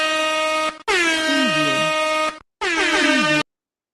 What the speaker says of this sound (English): I would just hit an air horn